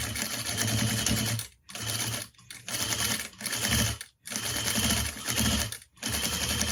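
Sewing machine backstitching a zipper seam on a pillow, fast rattling stitching in several bursts separated by short pauses, close and loud with no talking.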